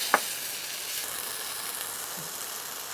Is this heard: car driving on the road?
no